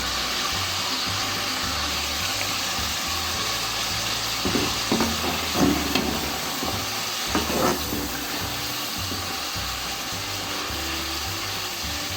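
Chicken meat fries in a karahi with a loud, steady hiss of sizzling oil throughout, broken midway by a few brief clattering stirs.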